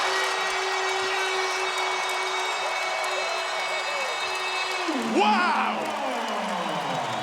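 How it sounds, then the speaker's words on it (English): Crowd at an ACC college basketball game in Louisville roaring after a banked-in shot late in the half, a steady wash of cheering under an excited commentator's voice. "And reignites the crowd on that play."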